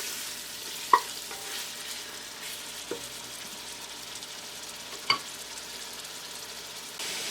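A steady sizzle of camel meat frying in a pan with ginger, garlic and onion, with a few sharp clinks of a utensil stirring now and then.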